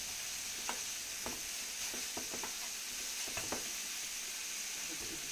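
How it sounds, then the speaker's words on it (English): Ingredients for Korean bulgogi sauté in a hot pan with a steady sizzle, broken by several sharp scraping stirs, close and clear, with no voices. "Saute these out a little bit."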